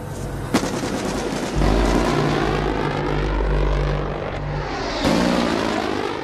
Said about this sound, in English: Little Bird helicopters are dispatched in a desperate bid to hold the Somalis back.